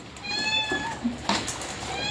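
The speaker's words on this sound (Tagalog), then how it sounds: "Pati pusa nangihingi." A cat gives a few soft, short meows while begging during dog kibble feeding, faint and close in a quiet room, with light background noise.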